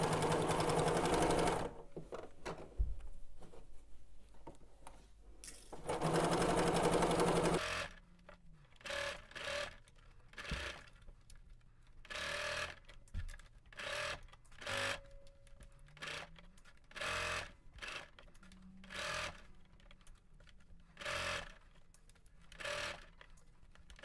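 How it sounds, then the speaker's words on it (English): A sewing machine stitches a curved 5/8-inch seam in a sewing project, running first in long continuous bursts and then in a series of short, rhythmic stop-start runs, close and clear with no talking. "Go ahead and head over to the machine, and we're going to be starting at our first dot and ending at the dot on the edge over here"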